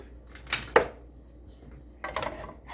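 A utensil breaking up sausage in a hot skillet on medium-high heat, with two clattering scrapes against the pan early on and a rougher burst of scraping near the end, close and moderately loud.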